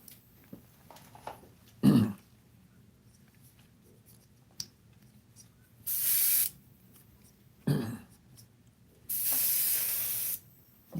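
An airbrush loaded with blue paint lets out two loud, steady hissing bursts, the second one longer, with some brief low rasping noises between them.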